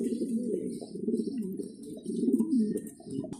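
Mundiyan pigeons on a farm coo in low, throaty, rolling calls that repeat one after another, close and steady, with faint chirps and a little talk in the background.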